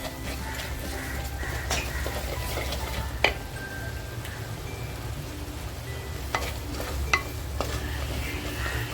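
Homemade masala and turmeric sizzling in hot oil in a home kitchen, a steady low frying hiss with a few light clinks of a spoon against the pan.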